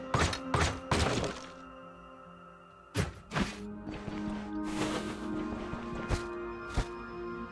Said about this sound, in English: I'm gonna bother breaking these boxes